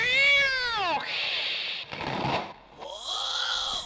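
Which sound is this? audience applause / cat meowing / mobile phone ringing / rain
cat meowing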